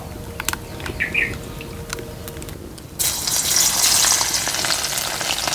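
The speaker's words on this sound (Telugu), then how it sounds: "ముందుగా మూడు చెంచాలు నూనె వేసుకుని పది వెల్లుల్లి రెబ్బలు వేసేసుకుందాం" Oil crackles and sizzles steadily, then jumps louder halfway through as ten garlic cloves drop into three spoons of hot oil, with faint chirps in the background.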